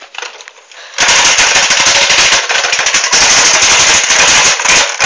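An automatic gun fires a long, loud, rapid burst of shots after a quieter start, with only brief gaps in the fire.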